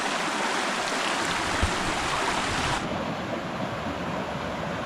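A stream rushes steadily over rocks at a trail crossing on Painters Run along the Loyalsock Trail in northeast Pennsylvania, a loud, continuous broadband wash of water with no voices.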